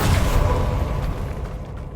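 The Bombarda spell goes off in Hogwarts Legacy, a close, heavy booming blast that starts loud and then rolls off into a fading rumble over about two seconds, with no talking.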